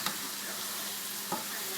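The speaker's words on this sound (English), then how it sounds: "You hear it sizzling, so the water's coming out." Food sizzling and frying steadily in butter in a pan while being reduced, a continuous close crackle with a couple of brief stirring clicks and no talk.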